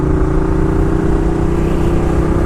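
A Ducati Diavel cruiser motorcycle being ridden, its engine giving a steady, loud, unbroken drone with low rumble throughout and no voices.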